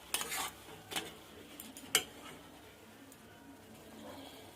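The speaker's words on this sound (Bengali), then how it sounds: "গরম মশলাটা দিয়ে একটু নাড়াচাড়া দিয়ে নেব" Cabbage cooked in fish oil with garam masala being stirred in a pan: a few sharp scrapes and clinks of a spoon against metal, then a quieter stretch of faint sizzling.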